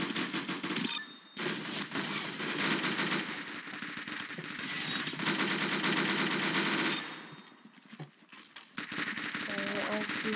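Gunfire in the Roblox game Arsenal, with dense bursts of rapid shots and game effects running under continuous talk from the players, loud and busy, briefly dropping out before resuming.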